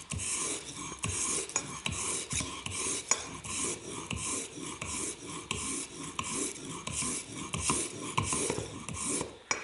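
Hand plane blade rubbed back and forth on 600 grit sandpaper over a flat surface, a close, steady rhythmic rasping of repeated even strokes with no talk.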